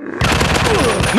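Rapid gunfire from the zombie shooting video game Industrial War (Fire Strike) erupts after a brief quiet start, a dense, loud volley of overlapping shots running continuously to the end.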